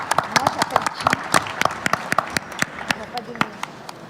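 Audience applause at an export trophy ceremony for eco-companies, greeting an award winner from a water-treatment start-up: a steady patter of many hands clapping, with sharper individual claps standing out, fairly close and continuing for several seconds.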